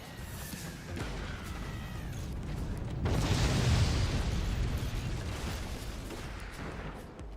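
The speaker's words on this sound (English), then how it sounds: "That is so many nukes. That's not a face tankable quantity of nuke." Nuclear missiles explode in the strategy video game Forts, a deep rumbling blast that swells and rolls on for several seconds after a faint whistling approach, heard without talk.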